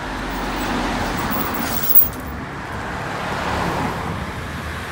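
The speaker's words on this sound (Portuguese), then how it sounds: "Tá vindo um carro agora." Car approaching and passing on an empty street in a quiet German country town, a steady low road rumble that swells gently and fades against faint background noise.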